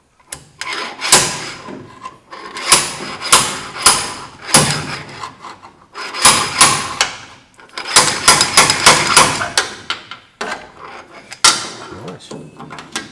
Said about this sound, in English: I'm just going to use my slide hammer to start with